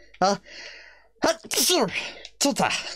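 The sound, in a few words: sneeze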